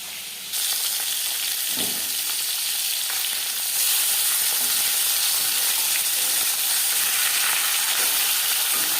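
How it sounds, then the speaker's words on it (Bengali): Live fish frying lightly in a pan of hot oil, giving a steady, close sizzle that jumps louder partway through and then holds without a pause. "জ্যান্ত মাছ আমি একটু হালকা করেই ভাজলাম।"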